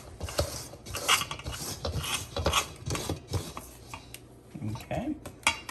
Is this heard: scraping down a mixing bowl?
yes